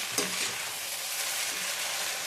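Idli manchurian fries in a pan with a steady, close, hissing sizzle, marked by a brief utensil knock near the start.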